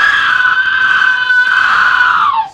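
A loud, sustained scream played by a haunted-attraction audio prop, one continuous high wail lasting a couple of seconds before dropping off sharply, with no talking.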